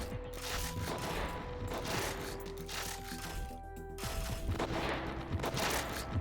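Dense, continuous gunfire from a firefight in the game Hardpoint, with overlapping bursts and mechanical clatter filling the whole stretch at a steady loudness.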